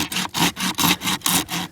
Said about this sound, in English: sawing.